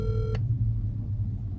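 A phone call is placed and goes unanswered: a short burst of dialing tones, then a steady low hum on the line with nothing picking up.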